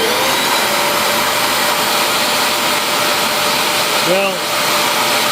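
A BISSELL Spot Clean Pro carpet cleaning machine runs steadily and loudly with a constant broadband roar like a cylinder vacuum, close by, briefly shifting pitch near the end.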